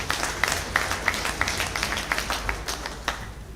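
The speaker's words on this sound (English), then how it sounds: "Another round of applause, please." An audience applauding at a graduation lecture for an executive intelligence management course, a lively patter of clapping by many hands, fairly close, fading slightly toward the end.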